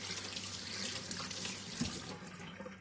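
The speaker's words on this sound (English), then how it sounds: "I'll wash my hands real quick." Hands being washed under a running kitchen tap, a steady rush of water splashing into the sink, close and moderately quiet, with a brief clunk near the end.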